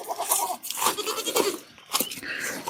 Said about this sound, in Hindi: और एक काली बकरी लाई हमने आजकल ही